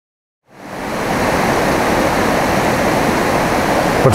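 Flowing water of a creek branch beneath a canal bridge rushes in a steady broadband wash, rising from silence after half a second and staying loud and continuous.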